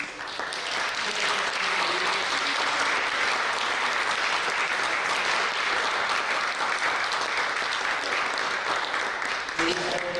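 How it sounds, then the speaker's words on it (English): Sustained audience applause at a STEM education forum, a dense, even wash of many hands clapping for about ten seconds, with some voices mixed in near the end. "let's give a big hand of applause to these."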